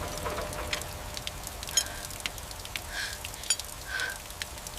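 Light rain crackles with scattered drops and soft patters, fairly quiet, with a few sharper ticks standing out against a faint background hiss.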